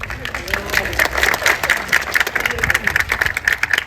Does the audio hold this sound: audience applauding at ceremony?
yes